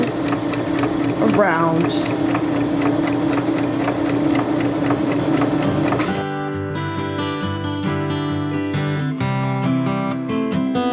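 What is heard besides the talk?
sewing machine stitching forward and back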